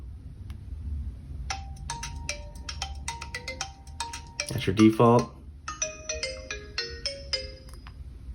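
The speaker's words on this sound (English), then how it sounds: "And then you have your ringtones." Several short ringtone snippets from a TCL A1 smartphone play one after another, chiming melodic tones, with a brief spoken remark in the middle.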